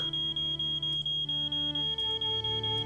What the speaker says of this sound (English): Yep. That's an alarm.